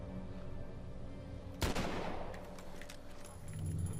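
Single sharp sniper rifle shot in The Walking Dead: Survival Instinct, a loud crack followed by a decaying rumble over steady game ambience, with faint clicks afterward.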